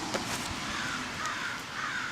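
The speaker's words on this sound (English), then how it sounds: "Damn birds!" Crows caw repeatedly over a noisy outdoor background, harsh rasping calls coming in quick succession from a short distance.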